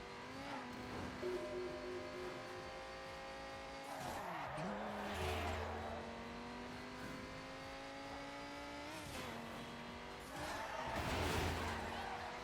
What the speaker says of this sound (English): for Midnight Club, this car sounds good, too.